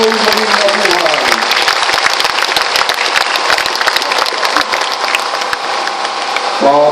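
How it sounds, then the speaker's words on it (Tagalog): A crowd at an outdoor Easter Salubong celebration breaks into loud, sustained applause that fills the whole stretch, with a faint voice and a brief tonal sound at the very end. "ay pumalakpak po tayong lahat"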